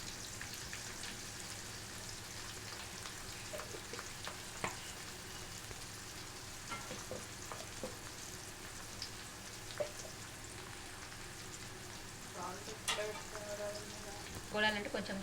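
Green chilies and turmeric frying for chicken curry produce a steady, close crackling sizzle throughout, with occasional utensil taps and stirring scrapes, and light speech in the background.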